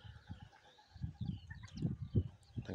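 Pigeon coos in short low bursts, four or five soft throaty phrases close by, with faint chirps and a thin background hiss.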